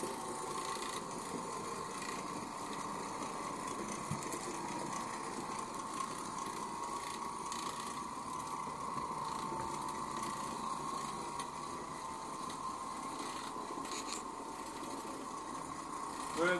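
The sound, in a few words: Oreck Orbiter floor machine cleaning carpet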